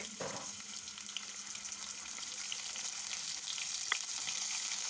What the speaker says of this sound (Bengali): তেল দিয়ে এখন দিচ্ছি আমি রসুন পেস্ট আদার পেস্ট